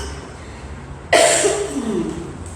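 A single sharp cough from a child or adult at a Sunday school worship service, sudden and fairly loud against a quiet room, with a brief trailing rasp afterward.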